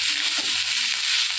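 Pasta fries in a pan with only a little oil, giving a continuous hissing sizzle with a faint stirring rustle, brief and close.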